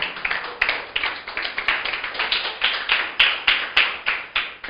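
A church congregation claps in praise during a sermon, a steady rhythmic beat of many hands striking together in unison, close and even throughout.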